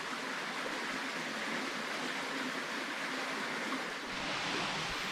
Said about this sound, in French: au départ de la cascade de 16 mètres